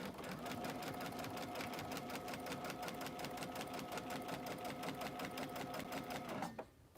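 A sewing machine runs in a steady rapid stitching rhythm while piecing a temperature quilt with a butterfly pattern, close and continuous, then stops abruptly near the end.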